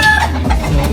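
A fighting rooster clucks loudly and close by in one brief, throaty burst, with no voices over it.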